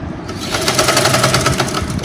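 A sewing machine stitches lining cloth in a fast, even mechanical rattle, close and steady throughout with no pauses.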